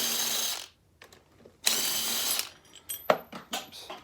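A power tool spins off bolts from the handlebars of an early-2000s KTM motorcycle during a fork seal job, giving two short bursts with a pause between them and then light clanks and tool handling.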